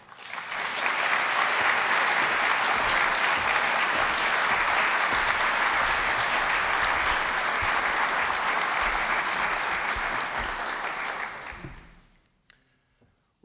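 An audience at a 2024 congressional district debate in the Northwest applauds to welcome the candidates to the stage, a loud, steady wall of clapping lasting about eleven seconds before it fades to near silence.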